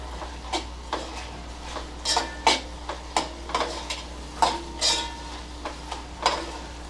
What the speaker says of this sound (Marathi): आता आपण काय करणार आहोत याच्यामध्ये दाण्याचं कूट थोडंसं घालते मी एक हात चमचा व्यवस्थित हे मिक्स करून घ्यायचं आहे